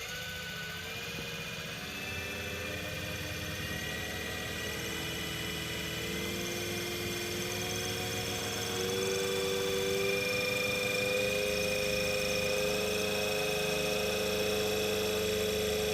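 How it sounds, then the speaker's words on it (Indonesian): A synchronous generator spun up to 1500 rpm in a lab setting, giving a steady, loud electrical hum with rising whining tones that climb as it speeds up, continuous throughout with no voices. "pertama kita putar generator sinkron dengan kecepatan"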